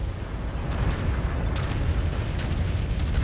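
Rumbling explosion of a destroyed mech in MechWarrior 5: Mercenaries, a loud, sustained low roar with crackling bursts running steadily for a few seconds, no talk over it.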